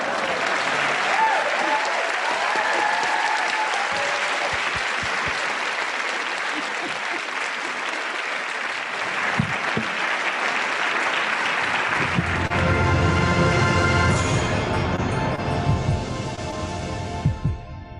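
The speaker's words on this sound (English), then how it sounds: "Let's clap for Patrick" An audience applauds after a presentation at a sustainability dialogue for small businesses, a long, full round of clapping that holds steady before blending into music and a low throbbing hum near the end.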